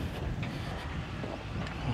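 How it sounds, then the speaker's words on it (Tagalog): Strong wind buffets the microphone in a steady, low rumbling roar on open land near Tagaytay, with no voices or other clear sounds. "Mahangin dito guys."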